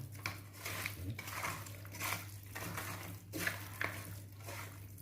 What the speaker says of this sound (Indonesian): Aduk merata, harus merata ya aduknya.